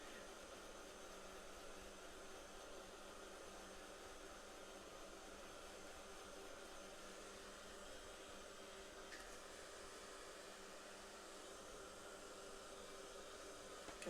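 A hair dryer blows steadily on tea-dyed paper tickets, giving a constant, fairly quiet whooshing drone that runs for about fourteen seconds without any speech.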